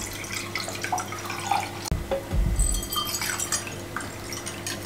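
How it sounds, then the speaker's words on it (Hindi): Cold water poured into two glasses while preparing homemade mango squash, a light trickling and dripping stream with a brief splash near the middle, heard close and alone. "2 गिलास में पानी डालने लगे हैं"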